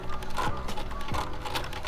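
A sewing machine stitches a Hong Kong seam finish down a seam line, giving a steady close whirring with fast mechanical needle chatter and a couple of brief motor pitch sweeps.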